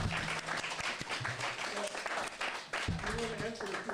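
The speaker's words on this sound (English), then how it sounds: "Let's all offer a vote of applause to Russell." Applause from an audience at a talk on the Webb telescope, light clapping mixed with a speaker's voice thanking the crowd over it, fairly faint and uneven.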